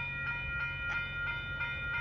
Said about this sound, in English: Well, so we have a train blocking 9th Street.